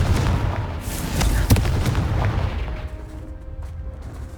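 A Confringo fire spell in the video game Hogwarts Legacy bursts with a heavy booming blast, followed by a rumbling explosive roar that slowly fades out, heard loud and with no talking.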